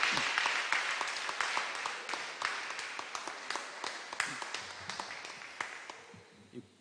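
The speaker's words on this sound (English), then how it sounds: "Let's give another round of applause for our candidate for St." A political rally audience at a party annual conference applauds a candidate, with dense steady clapping and scattered sharper claps that gradually thin out.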